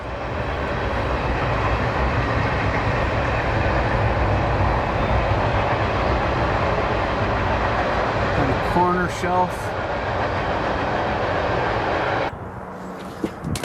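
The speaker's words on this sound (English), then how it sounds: "the train noise was just too much" A train rumbles past loudly and continuously for several seconds near an abandoned house in Ontario, a broad roaring noise, with a brief spoken remark partway through before it cuts off.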